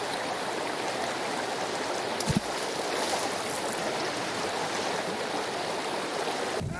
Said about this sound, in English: what is the deal with this river?